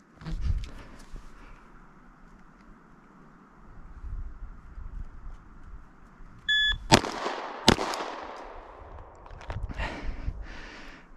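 Two sharp handgun shots ring out less than a second apart on an outdoor range during an air marshal qualification drill from low ready, over quiet wind noise and faint rustling.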